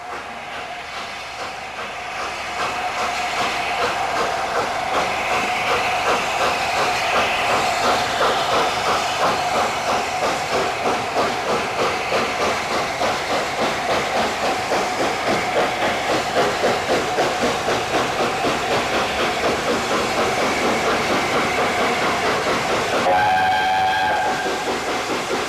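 The steam locomotive Mallard runs hard on the West of England main line towards Westbury, with a loud steady rhythmic chuffing and rail rumble throughout, and a brief whistle near the end.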